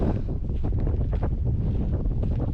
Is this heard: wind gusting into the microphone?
yes